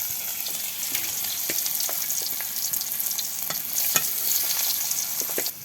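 Elephant foot yam (ol) slices frying in a pan give off a steady, close sizzle, broken by scattered pops and the scrape of stirring.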